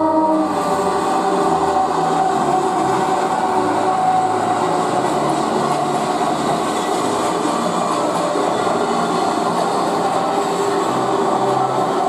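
An HO-scale model train with two EF63 helper locomotives coupled at the rear rumbles steadily along the rails of a Usui Pass diorama, a constant mechanical drone and faint clatter, loud and close throughout.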